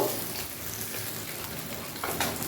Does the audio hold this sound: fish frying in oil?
yes